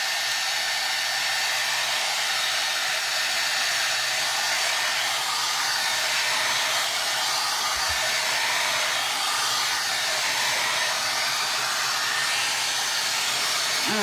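A hair dryer blows steadily on a craft book being made over, a loud continuous airy roar that holds at an even level throughout with no voices over it.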